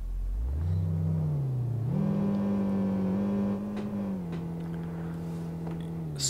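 A Mercedes G-Class engine in City Car Driving revs hard and holds a steady, droning mid-pitched whir, rising once after a couple of seconds and then easing slightly as the stuck SUV strains.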